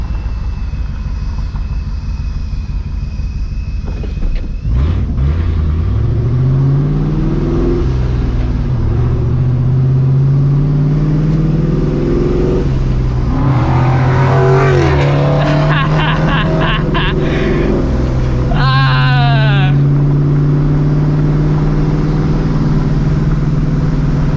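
A supercharged New Edge Mustang GT engine idles, then revs and surges with a rising supercharger whine as it accelerates and shifts, loud and close, with wind and road noise.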